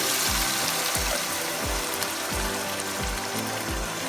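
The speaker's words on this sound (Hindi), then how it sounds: "और 1 गिलास पानी डालेंगे इसमें हम।" A glass of water hits hot oil and frying mash daal in a pan over medium flame, giving a steady hissing sizzle with soft bubbling and repeated low thumps beneath.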